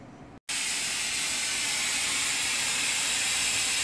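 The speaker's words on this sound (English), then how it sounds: "Hear all that steam escaping?" After a brief silence, a loud, constant hiss of steam escaping from a pressure canner starts abruptly and continues at full strength without pause.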